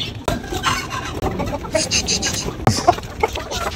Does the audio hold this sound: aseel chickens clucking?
yes